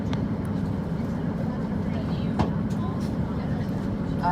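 Steady low rumble and rattle inside a passenger train riding from Hartlepool to Newcastle, continuous carriage noise with faint clicks and knocks, while people talk nearby.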